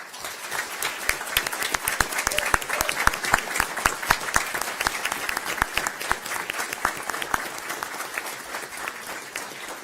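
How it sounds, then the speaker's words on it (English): An audience at a school board meeting gives sustained, steady applause for a basketball team whose members stand; the individual claps are crisp and dense, continuing evenly for about ten seconds. "If they can please stand so that we can give them a round of applause"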